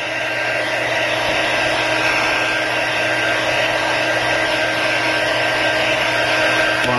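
A heat tool blows steadily over a cracked Samsung Galaxy S3 or S4 phone screen during repair, a constant loud whooshing drone up close that holds unchanged throughout without pause.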